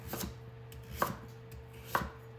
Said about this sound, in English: Cut that into half, and then I'm gonna do a half again, so it'll be into 4s